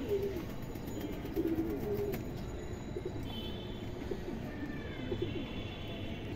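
A pair of khaki pigeons of the Bagha or Japna type coo in low repeated phrases against a constant background hum, with faint chirps from other birds scattered through.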